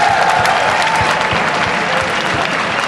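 A large crowd at an esports final applauds the European champions, dense sustained clapping with a faint voice over it.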